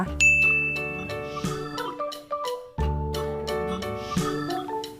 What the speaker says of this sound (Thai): แจ้งเตือนการโทรเข้านะคะ